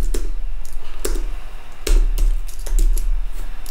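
Quick, irregular clicks of typing on a computer keyboard, close and crisp, with short pauses between bursts of keystrokes over a faint low hum.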